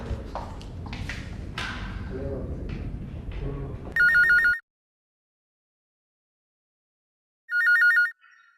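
After a stretch of busy movement and voices, a telephone rings twice in short electronic trills separated by silence.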